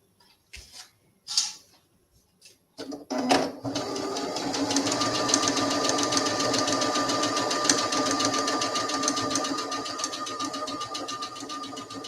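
A sewing machine stitching a quarter-inch seam on a handmade doll, running in a steady fast whir after a few opening clicks and bumps, close and moderately loud.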